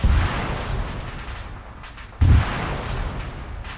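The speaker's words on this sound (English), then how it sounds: "I was just saying how the explosion was very loud" A loud, booming explosion in the video game Theseus, with a heavy low thud at the start, a rumbling tail, and a second deep blast partway through.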